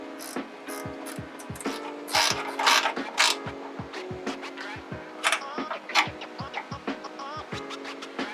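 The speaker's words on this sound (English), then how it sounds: "you may need a wrench to do these last two bolts that are also 10 millimeter" A wrench tightens the last two 10 mm bolts of an aftermarket catback exhaust on a Honda FK8 Civic Type R, giving close, repeated ratcheting clicks and metallic scraping in short bursts with no talk.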